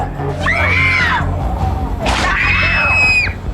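People shriek in a haunted attraction: two loud, rising and falling screams close by, one after another over a low background rumble.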